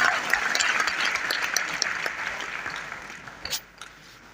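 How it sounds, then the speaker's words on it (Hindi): Applause from the audience at a motivational stage show fills the room, loud at first and then gradually thinning out, with a few last scattered claps near the end. "एक बार तालियां होनी चाहिए इनके सच्चाई के लिए।"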